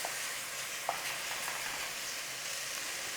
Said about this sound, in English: Cook out the rawness of that garlic ginger.